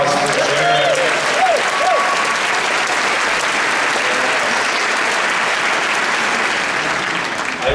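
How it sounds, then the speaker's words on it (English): Sustained, dense audience applause at a TubaChristmas concert by the Kansas City Symphony, loud and steady throughout with a few whistles and cheers near the start. "How about another round of applause for Jeannette?"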